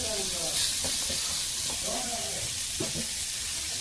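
Kokkara fish frying in hot oil, a steady close sizzle and hiss with faint stirring and low voices in the background throughout.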